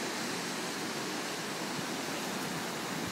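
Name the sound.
waterfall at Old Creek, Ketchikan, Alaska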